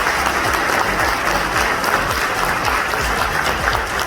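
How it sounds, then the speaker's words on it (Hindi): An audience claps at a school's annual honors ceremony, a sustained, even roar of many hands applauding, loud and continuous throughout. "काफ़ी साल से ये तालियां नहीं सुनी"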